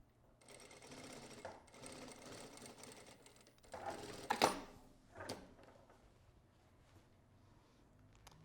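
A sewing machine runs a seam during a sewing workshop garment assembly, a soft steady mechanical whir for a few seconds with a sharper clack near the end, then quieter handling noises; faint and close.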